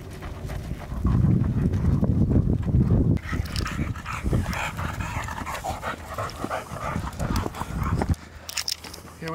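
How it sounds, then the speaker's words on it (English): A dog approaches on a volcano hiking trail, panting and padding close by with quick footfalls and light jingling, mixed with wind and movement noise and some faint talk. "there's a dog coming, so we gotta keep going"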